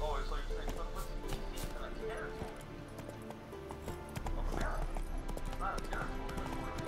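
Horse hooves clip-clopping in The Witcher 3 video game, a steady rhythmic clatter that runs throughout, mixed with game ambience and a brief whinny while characters talk.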